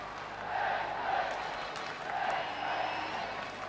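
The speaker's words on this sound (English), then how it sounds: "a noise from the crowd" Football stadium crowd at an Ipswich Town v Landskrona UEFA Cup tie gives a broad, swelling roar of noise, steady and distant, rising slightly in two waves.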